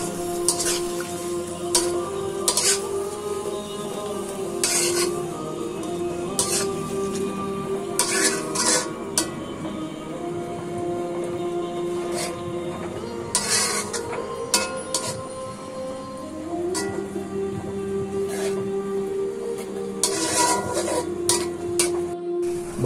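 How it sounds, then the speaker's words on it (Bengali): Sour leaves being stirred into spice paste in a pan for a fish curry: steady scraping and clinking of a utensil against the pan, with irregular louder knocks, under continuous soft background sound and no talk. "তারপর এখন টক পাতা ঢেলে নাড়তে থাকি।"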